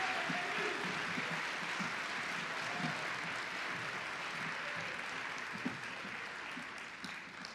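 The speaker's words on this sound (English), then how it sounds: "One more round of applause as they're coming on the stage" An audience at a middle school honors choir concert applauds steadily and evenly, a dense wash of clapping from a large crowd that holds for several seconds before gradually thinning slightly.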